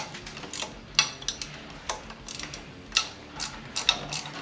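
A spanner loosening a bolt during a car water pump replacement, sparse metallic ratcheting clicks and taps, close and fairly quiet, with a few sharper clacks at irregular intervals.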